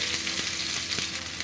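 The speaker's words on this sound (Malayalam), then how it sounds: "കടുക് പൊട്ടി വരുന്നുണ്ട്. ഇതിലോട്ട് കൊച്ചുള്ളി ഇട്ട് കൊടുക്കാം." Mustard seeds and shallots fry in hot coconut oil with a dense, steady sizzle broken by a few sharp pops.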